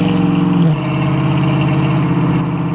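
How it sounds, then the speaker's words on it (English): A 1966 first-generation Ford Mustang's exhaust burbles in a steady low rumble while driving, the pitch dropping slightly early on and then holding an even throb. "Hear the exhaust."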